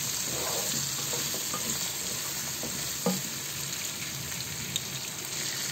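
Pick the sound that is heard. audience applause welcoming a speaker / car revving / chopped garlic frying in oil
chopped garlic frying in oil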